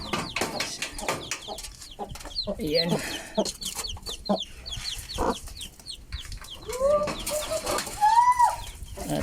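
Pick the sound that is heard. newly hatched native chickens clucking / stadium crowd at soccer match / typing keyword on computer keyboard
newly hatched native chickens clucking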